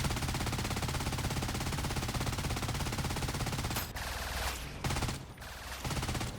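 A new gun weapon in the Trailmakers video game fires in a rapid, continuous automatic stream of shots for about four seconds, then bursts in shorter volleys with brief gaps.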